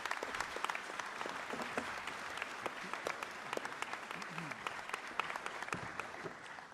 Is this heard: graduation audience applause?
yes